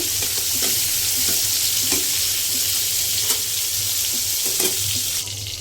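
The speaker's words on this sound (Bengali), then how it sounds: "চিংড়ি মাছটা কিন্তু আমি লাল লাল করে ভেজে নিচ্ছি" Shrimp fry in hot oil until reddened, giving a steady, loud sizzle with a few faint clicks of stirring throughout.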